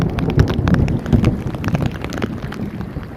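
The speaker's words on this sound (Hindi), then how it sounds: "यह है बारिश का असल मज़ा।" Heavy rain pours down with gusty wind buffeting the microphone at Keenjhar Lake, a dense, rushing noise throughout.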